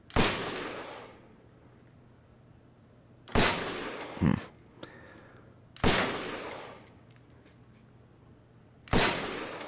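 Loud, sharp gunshots from a magnum semi-automatic handgun that takes a magazine, fired on a virtual reality gun range game: four separate booming reports spaced a few seconds apart, each trailing off in a long echoing decay.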